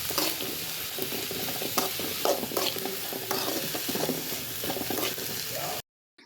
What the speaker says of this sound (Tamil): பொடியாக நறுக்குன கேரட் ஆட் பண்ணி நல்லா வதக்கிக்கோங்க.